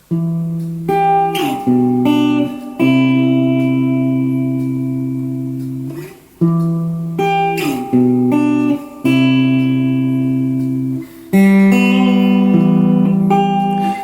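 A clean guitar plays a riff alone, close and clear, sustained chords and single notes ringing out in phrases separated by brief gaps.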